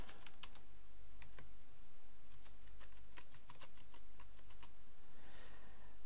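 Keystrokes on a computer keyboard as a username and password are typed, clusters of crisp clicks in irregular bursts with short pauses, close and clear over a faint steady room hum, no talking.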